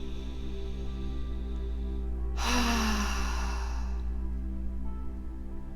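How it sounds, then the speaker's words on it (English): A person takes a deep breath in and exhales, one clear breathy rush over a quiet steady background hum. "Nice deep breath in."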